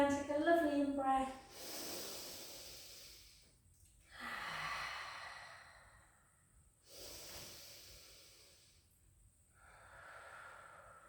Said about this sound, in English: Take a lovely in breath.